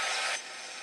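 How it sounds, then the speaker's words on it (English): A heat gun blows hot air to dry paint on a gel-printed canvas, a loud close whoosh that drops to a softer steady hiss as it eases off. "I'm going to grab out my heat gun and I'm going to just give that"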